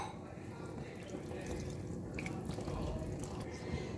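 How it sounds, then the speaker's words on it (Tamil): Water is poured into a simmering vegetable masala curry in a home kitchen, a steady splashing, trickling pour that runs continuously and fairly close. "இப்போ நல்லா மிக்ஸ் பண்ணிவிட்டு இதில் 1/2 டம்ளர் அளவுக்கு நம்ம தண்ணி ஊற்றிக்கலாம்."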